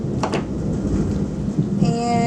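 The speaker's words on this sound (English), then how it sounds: "And here comes the storm." Thunderstorm breaking, with a steady broadband rumble of thunder and rain that holds throughout, a brief sharper crack near the start and tonal sounds entering toward the end.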